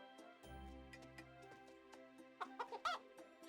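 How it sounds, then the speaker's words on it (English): Soft chick clucks and chirps from the farm game Cropia, with a short run of faint peeps in the chicken pen over a quiet musical background and a low hum at the start. "they're little chicks and they have to grow up"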